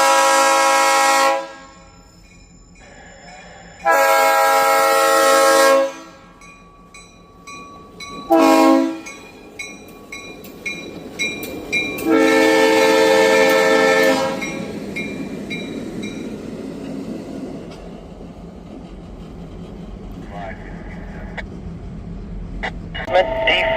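Illinois Railway light locomotive move heading west through town, its horn sounding in several long blasts with gaps between, followed by the rumble of the engines passing nearby.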